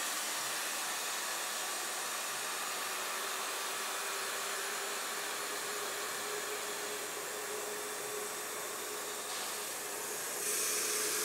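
An xTool D1 Pro diode laser cuts quarter-inch birch plywood, its constant air-assist hiss and fan whir running steadily, with a lower hum joining partway through.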